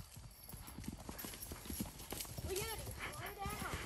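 A racehorse's hooves clip-clop rhythmically during jumping practice, close and clear, with a brief whinny partway through and people talking over the footfalls.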